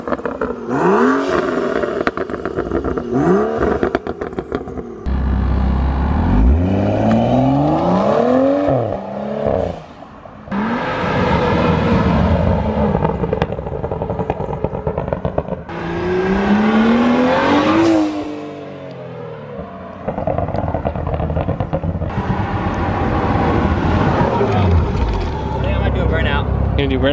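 A BMW 435i with catted downpipes and a burble tune, its exhaust droning and swelling through repeated loud revs and gear changes close by, with people talking over it throughout.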